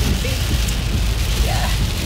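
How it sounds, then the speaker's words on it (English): Heavy rain pours steadily on a rainy day in Greenville, South Carolina, a loud, dense, unbroken hiss filling the whole moment, with faint voices barely audible beneath it. "it is really rainy"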